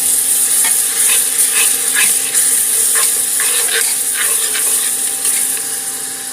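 Ginger garlic paste and green chillies sauté in hot oil with a steady, close sizzle, broken by intermittent crackles and stirring scrapes, with a faint tonal hum beneath and no talking.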